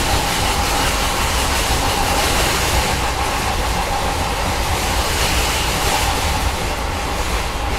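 Bengaluru to Chikmagalur passenger train running after clearing a signal, a loud, continuous broadband rumble and rush heard from on board, steady with no distinct clicks or voices.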